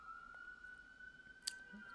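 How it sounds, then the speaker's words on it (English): An emergency vehicle siren wails faintly outside, a steady distant tone heard indoors at low level with a brief click partway through. "Damn sirens outside today."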